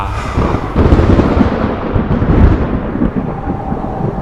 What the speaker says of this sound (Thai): ก็เกิดลมกระโชกแรงจนต้นไม้ใบหญ้าสั่นไหว ท้องฟ้ามืดคลึมเริ่มปกคลุมทั่วพื้นป่า